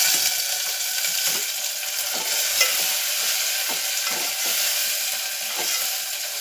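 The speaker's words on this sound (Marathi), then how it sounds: "तर बघा आपला इथे कांदा फ्राय झालेला आहे." Onion frying in hot oil in a home kitchen gives a steady, close sizzle, with soft scraping strokes of a spoon stirring through it at a regular pace and no talking.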